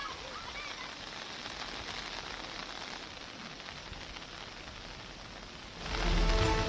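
Torrential monsoon rain in Seoni, steady dense hiss of downpour on surfaces, moderately loud and continuous, swelling louder near the end.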